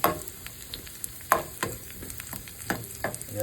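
Garlic fries in a pan with a soft, steady sizzle and several sharp crackles and pops scattered throughout, close and fairly quiet.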